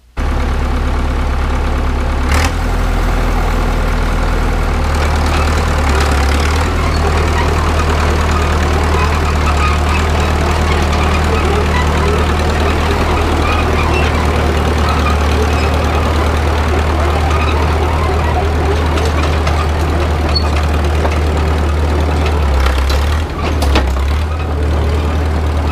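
Caterpillar D2 crawler tractor, a 5U model, running with a steady low diesel idle and chugging throb, close and loud, with brief changes in engine note near the start and end.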